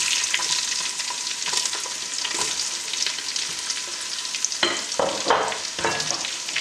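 Onions hit hot oil for Ghanaian jollof rice with goat meat, producing a loud, steady sizzle that turns busier near the end with stirring clatter.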